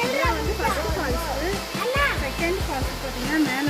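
Waterfall at Aare Falls in the Nagalapuram forest: a steady broadband rush of falling water runs throughout, with people talking over it.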